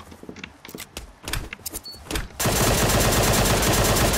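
DP28 machine gun in Surviv.io, a series of separate shots and clicks followed by a dense, loud stretch of rapid automatic fire that continues to the end.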